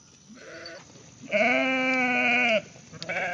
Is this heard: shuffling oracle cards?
no